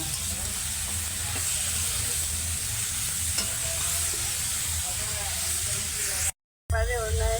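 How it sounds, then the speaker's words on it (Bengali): Goat tripe frying with cumin powder in a pan gives a steady, loud sizzle and hiss with stirring scrapes throughout, broken by a brief silent gap near the end before the sizzling resumes. "জিরা গুঁড়া দিয়া ভালো করে মাংসটা ভাজি নিব"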